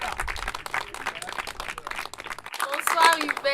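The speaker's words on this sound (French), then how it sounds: "Elle s'appelle Fidèle, avec les applaudissements du public." A studio audience claps during a French television game show, a brief burst of close clapping heard beneath a host's voice that carries on over it.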